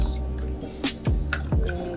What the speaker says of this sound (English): I'm going to go ahead and pour the lemon juice